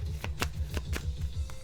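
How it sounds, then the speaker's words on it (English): A deck of cards is shuffled close up, a quick rhythmic ruffle of riffling snaps over a steady low rumble, with no talking. "Let's shuffle."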